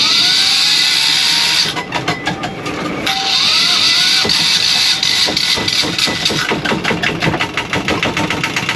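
A sailboat's engine cranks and catches, then settles into a loud, steady mechanical running under heavy wind and splashing water.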